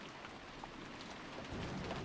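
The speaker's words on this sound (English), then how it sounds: "Thunder booms out again." Steady pouring rain with a low thunder rumble swelling near the end, from the video game Higurashi When They Cry, broad and continuous with no voices.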